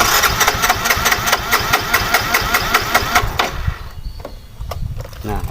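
A Yamaha Mio scooter engine with a weak fuel pump is cranked over with a rapid, rhythmic chugging that cuts off partway through, followed by quieter shop noise.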